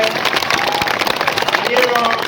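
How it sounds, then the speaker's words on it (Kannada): Crowd applause at a state farmers' association and sugarcane growers' rally in Mudhol, Bagalkot district, steady clapping and babble close and loud throughout, with voices in the crowd. "ಅಡಿರಿ ಚಪ್ಪಾಳೆ ಸಿದ್ದರಾಮಯ್ಯ ಕೇಳಿದ್ರೆ"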